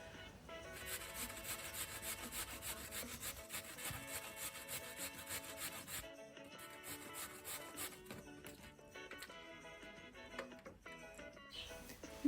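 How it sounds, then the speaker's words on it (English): A chayote, or cho cho, is rubbed against the small shredding side of a grater in steady rapid scraping strokes. The sound is close but quiet, continues without a break and has no voices. "So now I'm going to grate my Cho Cho, and I'm using the smaller side of the shredder on my grater."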